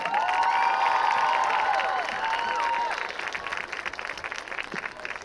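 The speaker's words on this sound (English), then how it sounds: "let us have a big round of applause for the Morgan County High School 2025 Sorghum Court." A crowd at a high school football game between Iroquois and Morgan County applauds and cheers during a sorghum court presentation on the field. The sound is distant, stadium-wide applause with cheers and a whistle-like tone early on, then softens.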